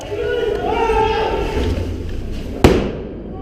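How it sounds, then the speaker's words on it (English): An airsoft flashbang goes off indoors in a building corridor, a single sharp, loud bang near the end following a stretch of muffled background noise and voices. "Flashbang!"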